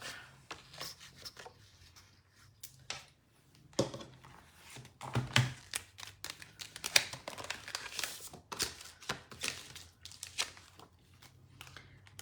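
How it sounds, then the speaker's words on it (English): Sheets of cardstock cut by hand with scissors instead of a paper cutter, giving a run of crisp snips, crinkles and paper rustles at close range with irregular rhythm and no talking. "I can't get my cutter right now, so we'll just cut some cardstock."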